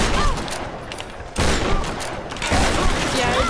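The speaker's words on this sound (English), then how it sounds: "Sorry, I thought that was my shotgun." Rapid gunfire from a shotgun in Tomb Raider rattles in dense, loud bursts that come in three surges, the shots overlapping in a continuous clatter.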